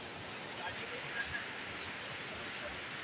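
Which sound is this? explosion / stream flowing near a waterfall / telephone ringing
stream flowing near a waterfall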